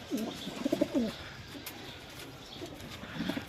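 Pure Ferozpuri pigeons coo in low, soft bursts near the start and again near the end, with faint background noise and no talking.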